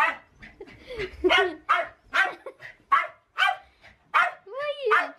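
Dogs bark close by in a rapid run of about eight sharp, loud bursts over five seconds, with higher yips mixed in and short gaps between each bark.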